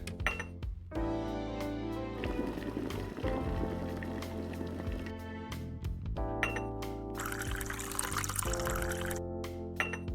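Water pours in short bursts in a cafe video game, bubbly liquid fills broken by brief clicks and register-like chimes, set over continuous tonal game music.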